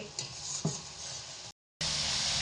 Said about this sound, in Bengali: মশলাটা আমি মিডিয়াম আঁচে রেখে ততক্ষণই কষাবো যতক্ষণ না এর থেকে তেল ছাড়ছে